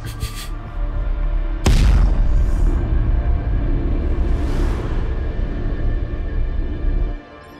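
A heavy explosion from the sci-fi series The Expanse erupts loud and sudden near the start, followed by a long, sustained roaring rumble that fades out abruptly at the end.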